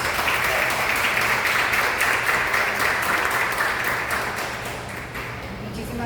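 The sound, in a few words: audience applause for the speakers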